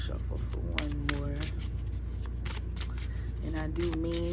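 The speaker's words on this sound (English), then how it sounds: "Shuffle for one more." A deck of playing cards is shuffled by hand in a home, giving soft riffling and rubbing bursts under steady background hum and a faint tonal music bed.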